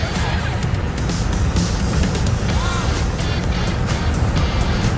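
An Alfa Romeo Giulia engine roars continuously on a DynoRoad dynamometer during a power test, a loud, steady, broadband drone with no pauses.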